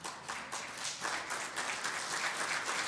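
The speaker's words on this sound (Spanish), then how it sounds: "Damos una ofrenda de palmas a Dios" A church congregation in Tecámac, Mexico, claps together in a steady, even round of applause that sounds faint and somewhat distant and continues for the whole stretch.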